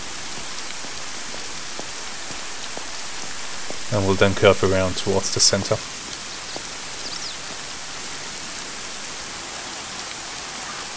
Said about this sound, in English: The rain is really, really annoying.